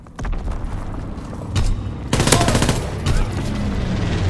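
Rapid bursts of gunfire and booming explosions from incendiary bombs in Call of Duty: WWII multiplayer, loud, dense and overlapping, with sharp blasts standing out midway.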